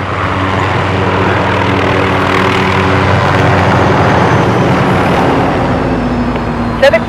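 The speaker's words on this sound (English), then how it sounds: "Barkov is sending in helicopters." Helicopters approaching in Call of Duty: Modern Warfare, a loud continuous droning rotor and engine rumble that swells slightly, with a brief knock near the end.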